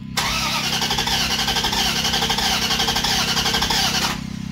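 A 2002 Dodge Ram 1500 with the 4.7 engine, troubled by intermittent no-start, cranks briefly and catches, then runs at a steady loud idle close by for several seconds before cutting off.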